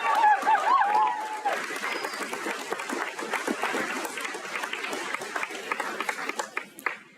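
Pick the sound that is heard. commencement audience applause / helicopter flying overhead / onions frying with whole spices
commencement audience applause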